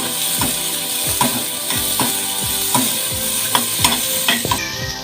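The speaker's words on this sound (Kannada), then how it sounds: "ತೆಂಗಿನೆಣ್ಣೆ ಅರ್ಧ ಟೀ ಸ್ಪೂನ್. ಸ್ವಲ್ಪ ಬಾಡಿಸಿದರೆ ಸಾಕು." Ingredients sautéing in half a teaspoon of coconut oil for a tili saru, with a steady sizzle under repeated scraping and stirring strokes of a spoon against the pan, about one every half second, close and fairly loud.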